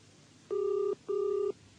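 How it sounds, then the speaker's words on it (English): A British telephone rings in a classic double burst, two steady electronic trills close together, loud and near in a quiet room. "answer your flaming phone"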